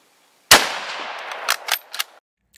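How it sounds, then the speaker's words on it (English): A single sharp rifle shot cracks out in a reenactment of a sniper firing from the Book Depository, followed by a decaying echo and a few faint metallic clinks. "he fires his third shot"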